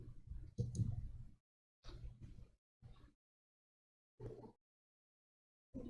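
Computer mouse clicks come in short, separate bursts with silent gaps between them, close and fairly faint.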